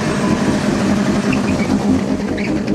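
A turbocharged Zetec engine in a Ford Orion holds a loud, steady, unbroken roar close by, droning evenly with no clear gaps or pauses.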